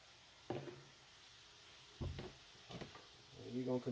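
Food cooks in a pan for a cornbread tamale pie, giving a faint, steady sizzle broken by a few soft stirring scrapes and knocks.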